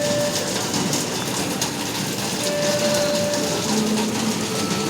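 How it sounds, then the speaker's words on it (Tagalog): Steady rain in the Roblox video game, a dense continuous hiss filling the whole stretch at an even, fairly loud level, with faint tonal game sounds over it and no talk. "Paepal tong ulan na to ha."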